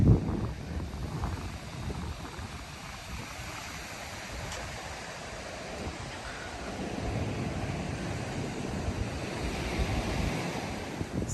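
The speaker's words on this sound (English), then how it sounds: "it is breezy when you get down here by the water" Surf rolling onto Apollo Beach at Canaveral National Seashore with strong breeze buffeting the microphone, a continuous low roar of waves and wind rumble that swells slightly toward the end.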